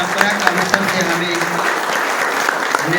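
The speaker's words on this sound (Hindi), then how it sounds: "सब कोई ताली जोरदार दीजिए।" A gathering at a training session claps to welcome a guest speaker, a continuous crowd applause with a few sharper individual claps standing out, moderately loud, with some voices faintly underneath.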